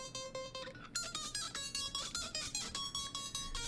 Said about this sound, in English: which is the melody track, but it is pitched up an entire octave